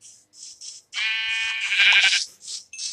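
Several short, bright sheep bleats from Minecraft, a quick cluster followed by one longer wavering bleat and a couple more brief calls, close and clear with no talking.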